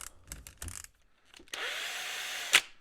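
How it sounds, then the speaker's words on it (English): A few knocks and handling sounds, then a power drill spins up a homemade drum sander with a steady whir, ending in a sharp scrape as the bit catches. "And now I can chuck this up on a drill."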